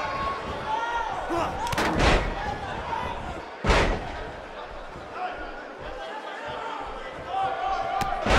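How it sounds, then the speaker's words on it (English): A wrestler is slammed onto a table in a wrestling video game, heard as heavy thuds and crashes under crowd noise and excited commentary. "Slams him down with authority."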